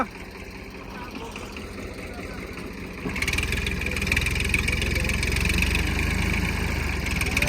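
A scooter engine idles steadily nearby, its low mechanical drone growing louder and fuller partway through and holding at that level to the end, with voices talking over it.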